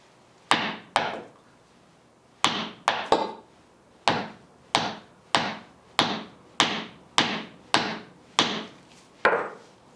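A hammer strikes a shoe worn on a foot again and again, sharp close impacts in an uneven rhythm that quickens into a steady series of about fifteen blows, no talking.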